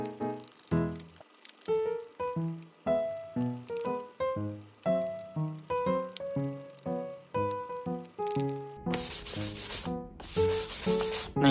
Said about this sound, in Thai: เดี๋ยวผมขอขัดด้านนี้ต่อเลยแล้วกันนะ